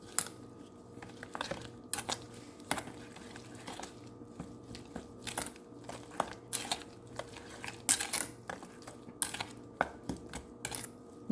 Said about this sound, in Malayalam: ഇതെല്ലാം കൂടി നമുക്ക് നന്നായിട്ടൊന്ന് മിക്സ് ചെയ്തെടുക്കാം